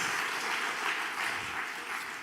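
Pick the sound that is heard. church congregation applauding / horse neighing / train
church congregation applauding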